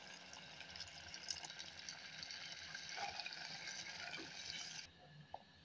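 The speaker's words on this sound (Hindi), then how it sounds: "अब हम इसमें 1 गिलास पानी डाल देंगे ताकि आलू हमारे अच्छे से गल जाएँ।" A glass of water poured into browned aloo gosht curry in a cooking pot, a steady splashing pour that runs for about five seconds and then stops, with no talk.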